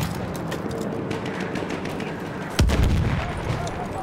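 A single loud gunshot from a weapon in Battlefield 1 cracks out sharply near the end, standing above a steady bed of distant battlefield gunfire and background game noise.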